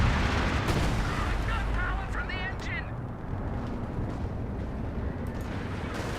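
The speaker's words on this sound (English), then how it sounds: "when you hear those artillery fleets coming in, that's combined with Royal Artillery" Royal Artillery barrage in Company of Heroes 2, a 4v4 muddy battle: distant heavy shell impacts and gunfire rumbling continuously under game voice chatter and someone talking over it.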